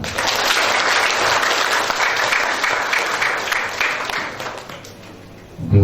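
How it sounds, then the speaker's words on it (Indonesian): A crowd claps steadily and loudly for several seconds, the applause thinning slightly before a brief swell at the end. "Tepuk tangan."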